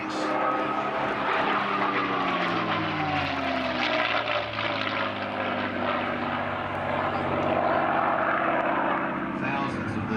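A P-51D Mustang propeller fighter built by North American Aviation passes at an air festival, its loud droning piston engine rising and falling in pitch as it flies by, with a voice talking over the roar throughout.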